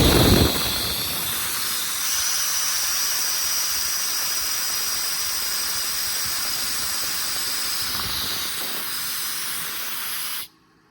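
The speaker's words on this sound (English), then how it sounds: "Then you can also turn the compressor off again from the same remote here." Air compressor on a 2024 Ford F600 diesel service truck running as a loud, steady rushing hiss, close and continuous, then cutting off abruptly near the end.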